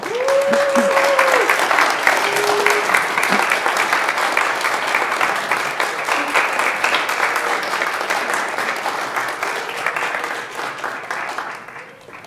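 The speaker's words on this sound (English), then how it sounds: "And you may applaud." Wedding guests at a spiritual center ceremony burst into loud, sustained applause right after the couple is pronounced husband and wife, with a few cheers and voices over the clapping before it fades out.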